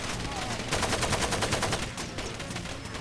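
Rapid automatic gunfire in the video game Far Cry 2, a dense burst of shots rattling through the middle of the stretch at steady loudness, with no talking over it.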